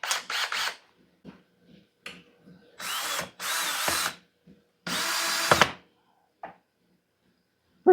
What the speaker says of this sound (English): Should check before I drilled it, but it's too late now.